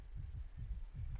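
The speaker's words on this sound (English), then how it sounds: "You can hear the heart beating." A video game heartbeat throbs low and muffled, a steady series of soft paired thumps repeating roughly every third of a second over a faint hum, with no talking.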